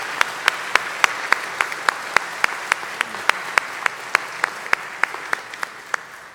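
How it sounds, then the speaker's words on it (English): Applause from a conference audience, heard alone as a steady run of sharp, evenly spaced claps that sound close and fairly loud, holding a regular rhythm throughout. "Please give yourselves a well-deserved round of applause."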